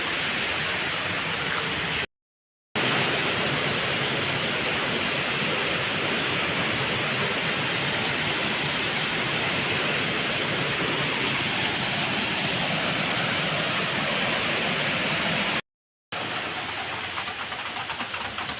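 A waterfall on a trail toward a cave near Catbalogan, Samar, in the Philippines, a dense, continuous roar of falling water that stays loud and steady throughout, with two brief dropouts.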